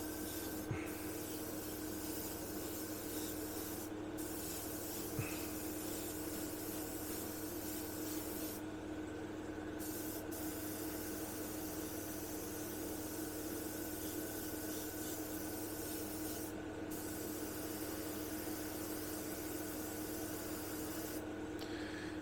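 An airbrush sprays paint onto a Revell PBY-5 Catalina model aircraft canopy, giving a steady, faint hiss of air that runs unbroken for about twenty seconds, with a few brief dropouts and tiny clicks and no talk.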